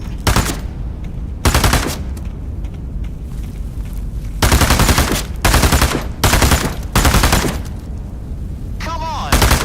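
Bursts of automatic gunfire in the VR shooter Into the Radius 2, several loud close volleys separated by short pauses, with a voice talking in between.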